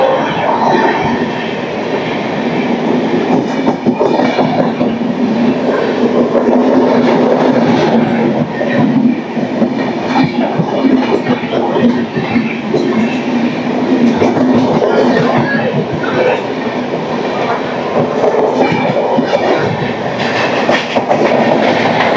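A passenger train, the 12859 Gitanjali Express, runs past near Jaraikela railway station with a loud continuous rumble and rhythmic wheel clatter that stays close and steady throughout, with no talk over it.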